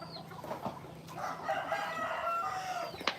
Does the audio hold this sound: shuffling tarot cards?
no